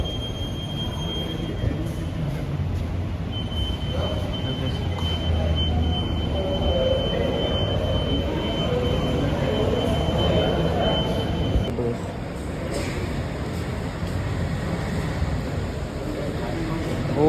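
A Kochi Metro train running between Ernakulam South and Kalamassery, heard from inside a carriage as a steady rumble and rolling hum with a thin high whine, close and continuous, while passengers talk quietly.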